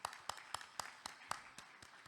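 Sparse applause from a conference audience honouring an endourology professor, heard as a slow, steady run of distinct, fairly quiet claps at a regular pace.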